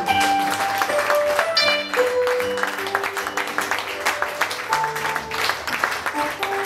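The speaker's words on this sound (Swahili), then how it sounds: "Tupige Yesu makofi." A church congregation at morning prayers claps for Jesus in steady, rhythmic hand claps over keyboard music, moderately loud throughout.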